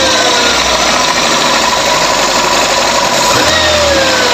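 A Toyota Corolla EE100 engine running with a freshly rebuilt and tuned carburetor, a loud, steady close-up idle hum with a constant mechanical clatter throughout.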